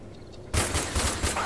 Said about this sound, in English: We're gonna use my MG.